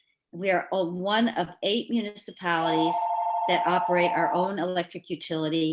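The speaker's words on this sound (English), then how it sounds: "That's my phone making all that noise" A mobile phone rings with a steady electronic tone through a borough council meeting, sounding for a couple of seconds beneath a man's continuous speech at the microphone.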